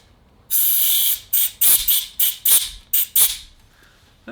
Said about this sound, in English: I hooked up the air compressor, turned it on